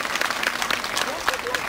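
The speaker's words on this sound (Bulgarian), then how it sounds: "Да чуя аплодисменти!" An audience at a kindergarten spring fashion show claps in a steady burst of applause, fairly close and continuous, with voices mixed in.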